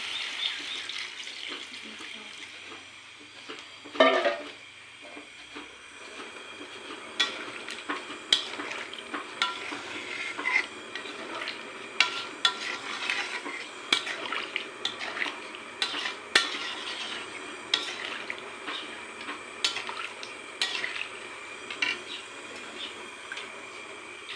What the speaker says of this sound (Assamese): ইয়াত চিকেনত মই পানী দিছোঁ চাওক, ধুনীয়াকৈ পানী দিছোঁ।